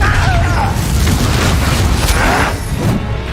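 A Confringo spell blast in the Hogwarts Legacy video game, a loud sustained fiery boom with rushing, whooshing texture and heavy low rumble throughout, mixed with battle effects.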